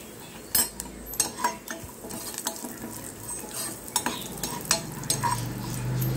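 Raisins frying in a pan with coconut for moong dal payasam, giving a steady sizzle with repeated scraping and clinking of a spoon against the metal pan, close and fairly loud, no talking.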